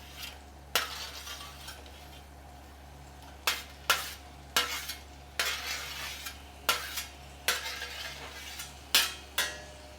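Paneer being stirred into a frying masala gravy: a spoon scrapes the pan in a string of distinct strokes, roughly one every half second to second, over a faint sizzle and a low steady hum, with no talking.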